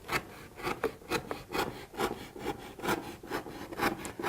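A knife slices along marked paper for a homemade paper popcorn machine, giving a run of rhythmic rasping strokes, about two per second, close and fairly clear with no talk.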